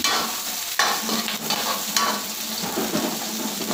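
Garlic and onion sautéing in a pan for chicken adobo, a steady close sizzle with scraping stirs of a spatula and a few sharper knocks, no voices.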